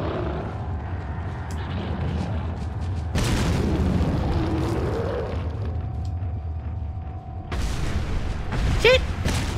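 A grenade blast in the Resident Evil 4 video game: a heavy boom bursts out over a constant low rumble of game ambience, followed later by a second sharp burst near the end.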